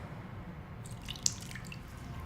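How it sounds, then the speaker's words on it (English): Water is poured into pumpkin bread batter made with canned pumpkin puree, a faint, short liquid trickle and drip close by, with no voices. "and then 2/3 cup of water."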